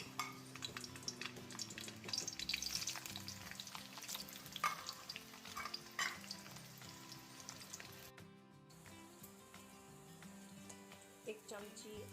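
Cardamom, cloves and garlic roasting in oil for a gravy, a steady sizzle with intermittent stirring and pan scrapes, running under background music with a brief dropout near the end.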